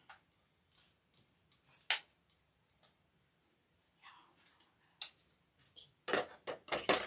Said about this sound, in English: I like my long scissors for this project.